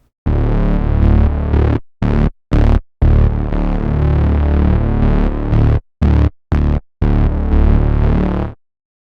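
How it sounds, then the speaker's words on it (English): A thick, buzzy synth tone plays with its volume modulated by a step sequencer, chopped into rhythmic steps, cutting out briefly in a jumping, gated pattern. "So it's modulating the volume,"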